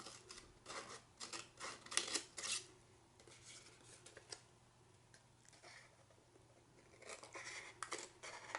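Scissors snip through origami paper along its creases, making a series of quiet, crisp cutting strokes in bursts, with small papery rustles between them and no talking.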